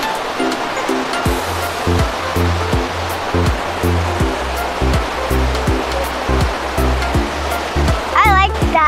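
Pulhapanzak waterfall roars steadily during a family picnic, a constant rushing wash with a rhythmic thumping pulse running through it.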